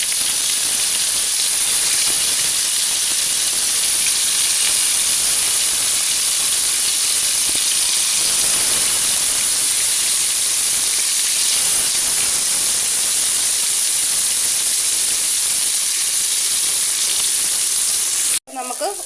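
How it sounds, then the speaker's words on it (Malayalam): Fish frying in coconut oil with curry leaves in a pan, a loud, dense and steady sizzle with constant hiss close by, cut off abruptly at the end. "മീൻ ചട്ടി ഇപ്പോൾ ഫ്രൈ ചെയ്യാനായിട്ട് ഇവിടെ വെളിച്ചെണ്ണയൊക്കെ ഒഴിച്ച് കറിവേപ്പിലൊക്കെ ഇട്ട് കൊടുത്തിട്ടുണ്ടെങ്കിൽ നമുക്ക് മീനകത്ത് പെറുക്കി വെച്ചെടുക്കാം"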